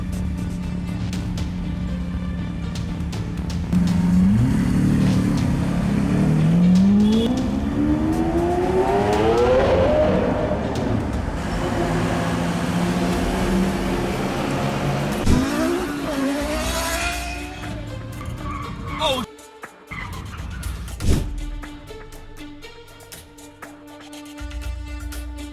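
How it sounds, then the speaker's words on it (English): A Lamborghini Aventador speeds off in a near miss with a Toyota Prius, its engine roaring and rising in pitch while the tires squeal and skid, loud and close, ending in a few sharp bumps and knocks. "a Lamborghini Aventador nearly collided with a Toyota Prius as it sped away"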